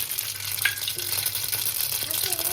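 Oil heats in a kadhai for a moong pod bean vegetable with tomatoes, a steady, close, continuous sizzle and crackle with a few faint clinks of stirring.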